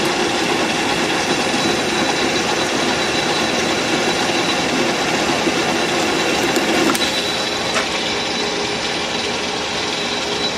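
A metal lathe turns a taper at 450 RPM, giving a steady loud mechanical hum and cutting noise with a few brief sharp ticks and scrapes partway through.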